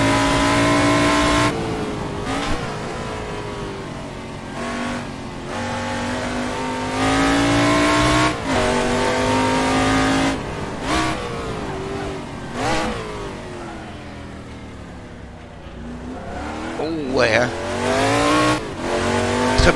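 A race car in the Assetto Corsa video game, a legends prototype mod, revs hard and accelerates through a hairpin with repeated gear changes and rising engine pitch, loud and close, with brief tire squeal near the end.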